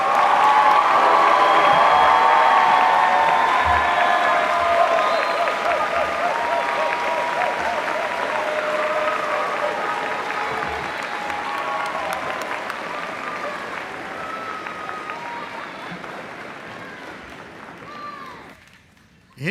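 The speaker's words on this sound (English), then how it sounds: "Let's give everyone another round of applause." A large college commencement crowd gives graduates a long, full round of applause with cheering and crowd noise, loud at first and gradually fading away over nearly twenty seconds.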